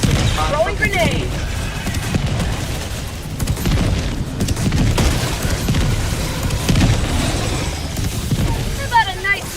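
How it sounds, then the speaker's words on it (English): A grenade goes off in Helldivers 2 amid steady gunfire and booming combat noise, with repeated loud blasts and a voice shouting over the battle. "Throwing grenade!"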